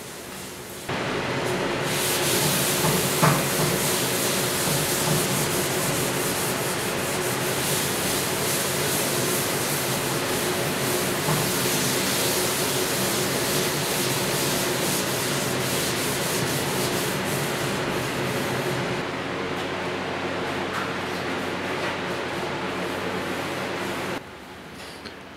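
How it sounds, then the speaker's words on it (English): A 1956 Ford pickup fender being wet-sanded by hand with 1200 grit paper gives a steady, continuous close rubbing hiss with a soft rhythmic texture, running for about twenty seconds with no talking before it stops abruptly. "if you sand it just with the 1200, it gives you that really smooth surface to lay your base down with."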